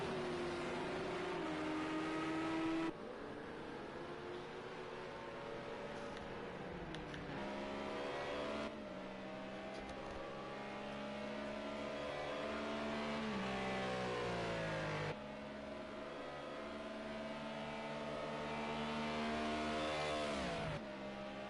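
A Nissan GT3 race car at Imola in Project CARS 2: a loud, sustained engine note that climbs in pitch through the revs and drops sharply at each gear change, repeating over about twenty seconds.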